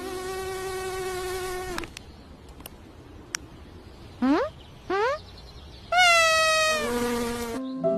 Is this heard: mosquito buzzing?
yes